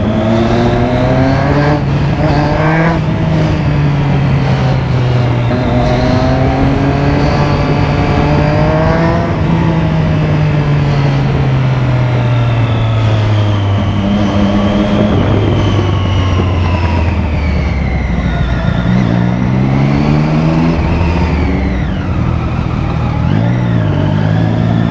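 Loud engines roaring past continuously, pitch rising and falling as motorcycles pass close by, with no talking.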